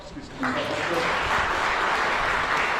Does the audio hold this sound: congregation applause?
yes